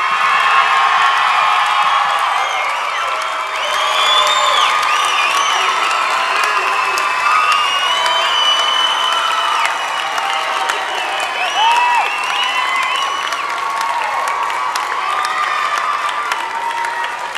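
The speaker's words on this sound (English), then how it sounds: "Let's give these graduates one more big round of applause." A high school graduation audience applauds and cheers in a large crowd, with sustained loud clapping mixed with whoops and shouts that carry on steadily without letting up.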